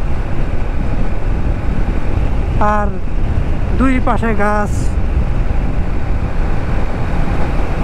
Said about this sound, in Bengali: অনেক অনেক বাতাস, যেটা বাইক চালানোর কারণে আইতাছে